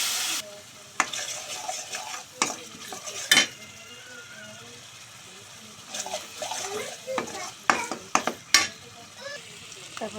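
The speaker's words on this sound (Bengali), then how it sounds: "তারপর একটু জল দিয়ে কষিয়ে নিব।" Tomato puree with turmeric and chilli powder and a splash of water sautéing in a pan for potato egg curry, a steady sizzle broken by repeated scraping stirs and clinks of a spoon against the pot, with brief talk over it.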